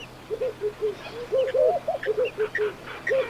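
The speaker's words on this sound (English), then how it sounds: "First, we hear the small birds." Small birds chirp at an African waterhole in short repeated phrases, a steady stream of bright calls with faint higher twitters behind them, set against a quiet outdoor hush.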